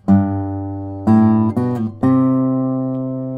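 Fingerstyle guitar bass line with passing tones, a few plucked notes ringing out cleanly and alone, each new note struck about once a second and left to sustain.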